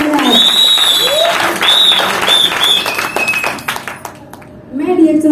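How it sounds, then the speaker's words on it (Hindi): Applause from an audience at a DXN recognition ceremony, a broad wash of clapping that swells and fades over about five seconds, partly under someone speaking loudly over a microphone. "इसलिए भी जोरदार तालियां होनी चाहिए"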